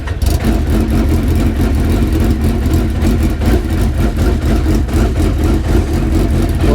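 A prototype race car engine catches and runs, a loud, raspy, high-revving note close by, steady and unbroken with a motorcycle-like buzz.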